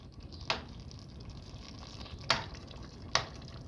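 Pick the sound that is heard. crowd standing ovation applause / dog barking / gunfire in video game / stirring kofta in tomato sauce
stirring kofta in tomato sauce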